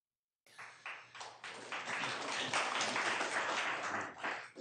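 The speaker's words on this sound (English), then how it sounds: "It's pretty good to be applauded before you even say a word" An audience at a city council meeting breaks into applause after a silent start, with scattered claps building into steady, moderate clapping that carries through to the end.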